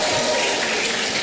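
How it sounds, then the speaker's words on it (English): Brief burst of audience clapping after a college lecture on science, a continuous dense wash of hands filling the short moment. "A round of applause for science"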